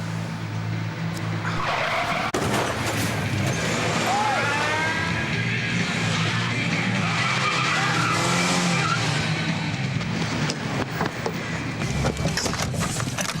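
A car skids with tires squealing during a police-drama chase, the long screeching slide rising and falling over engine noise while voices call out over it.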